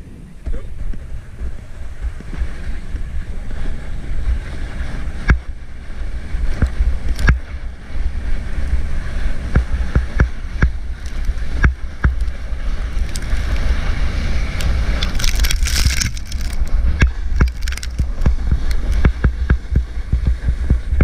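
Sliding down a snow luge run at a winter festival, with a steady rushing, scraping roar of movement over snow throughout, punctuated by sharp clicks and bumps, with faint voices now and then.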